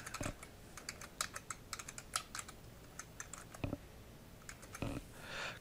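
Typing on a computer keyboard, a close run of quick, uneven key clicks with short pauses and a few heavier taps, no talking.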